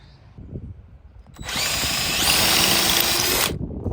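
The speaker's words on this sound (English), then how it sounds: "Some re-drilling is necessary." A power drill whines at high speed for about two seconds, re-drilling into the metal of an Airstream Fiamma bike rack, after a quieter stretch of background noise.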